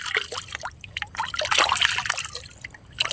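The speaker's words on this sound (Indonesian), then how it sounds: "Kemudian kita siram pakai air." Water splashes and trickles through a small opening in a Yamaha 15 hp outboard engine, a close, bubbling pour that runs without a break for a few seconds.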